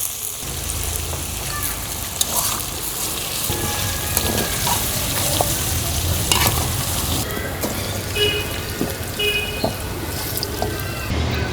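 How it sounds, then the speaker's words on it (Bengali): Cumin seeds, onion, green chili and tomato frying in hot oil, a busy close sizzle broken by stirring scrapes and clinks that keep going throughout, with no talking. "জিরা ফোড়ন দিলাম দিয়ে দিলাম পেঁয়াজ কাঁচামরিচ টমেটো"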